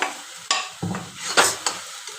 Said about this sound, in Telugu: ముందుగా ప్యాన్ పెట్టుకొని అందులో మనం ఫస్ట్ ఉడకబెట్టుకుని గోంగూర వేసేసుకోవాలి.